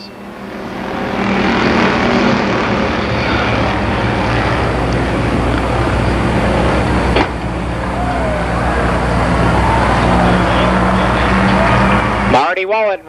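Street stock race cars in a heat race at Columbus Motor Speedway, a loud sustained roar of engines on the track with a brief sharp break midway, then the sound cutting off near the end.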